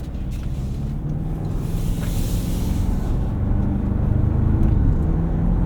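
2024 Toyota Tacoma Limited i-FORCE Max hybrid pickup under way on the road, a loud low engine rumble that builds steadily with road and wind noise, heard from inside the cab.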